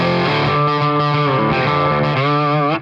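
Electric bass on a Reeves Electro amp playing a low line with slight grit and a touch of room reverb, sustained harmonic notes shifting in pitch, loud and close with no talking.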